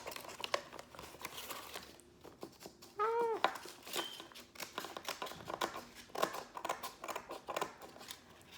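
Repeated crisp snips and rustles of scissors cutting paper for a paper wreath, quiet and close, with a brief whistly squeak in the middle.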